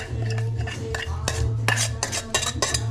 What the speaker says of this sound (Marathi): आता आपला मस्त तडका दिलेला मसाला आपण पोटॅटोमध्ये मिक्स करूया.